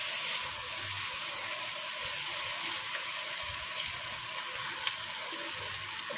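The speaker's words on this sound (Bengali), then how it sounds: "এখানে এতটা জল দিয়ে দিলাম" Water pours steadily into a pan of simmering vegetable curry, a continuous broadband gush with a faint sizzle beneath, fairly close and alone without talk.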